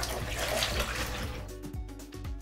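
Liquid pours into bread dough in a close, steady, splashy stream that tapers into a few gurgling drips.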